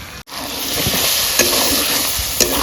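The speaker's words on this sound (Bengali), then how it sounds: "এবার আমি এগুলোকে ভালো করে কষিয়ে নিচ্ছি।" Ingredients for a Bengali-style crab curry, seasoned with turmeric and salt, sizzle steadily as they are sautéed in a pan, with a couple of brief stirring scrapes over the constant frying hiss. No one speaks.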